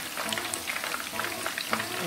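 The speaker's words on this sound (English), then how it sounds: "then you're gonna fry them up" Egg foo young patties fry in hot grease with a steady crackling sizzle and scattered sharp pops, close and fairly loud.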